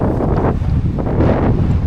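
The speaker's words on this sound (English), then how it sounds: "it is so windy" Strong wind buffets the microphone in a steady, roaring rumble with gusty surges throughout, while hiking on Comino, in the rain.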